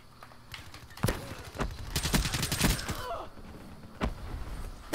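Gunshots from Black Ops 3 multiplayer gameplay, sharp cracks around the one, two to three and four second marks, with a dense cluster of rapid shots in the middle, loud against a busy game background.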